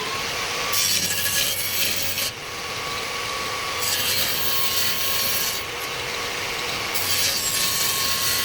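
A wooden name tag is sawn out by hand in long, steady rasping strokes with brief pauses between them, close and alone with no speech.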